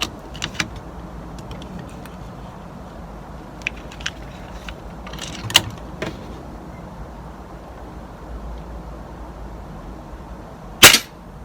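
Air rifle firing pellets at a target outdoors: a few sharp, brief cracks spread over the span, the loudest near the end, above a steady low background rumble.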